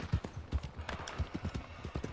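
Horse hooves clopping in Red Dead Redemption 2, a run of repeated low, close thumps in an uneven trotting rhythm, with no talk over them.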